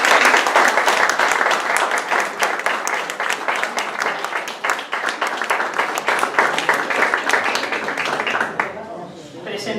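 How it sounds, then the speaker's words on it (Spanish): Audience applause fills a poetry evening with an open reading and book launch, a dense, steady clapping from a seated crowd lasting several seconds before thinning out at the end. "Un aplauso para Elena Moratalla."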